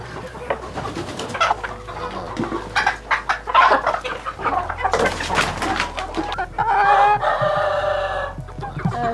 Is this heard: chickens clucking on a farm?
yes